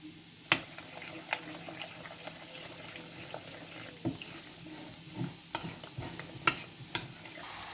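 Turmeric, chili and garam masala are stirred through potatoes in a pan, with intermittent spoon clinks and scrapes over a soft, low sizzle, fairly quiet and with no talk.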